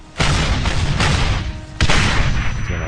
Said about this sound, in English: There are artillery pieces like, the German side, the dreaded 88.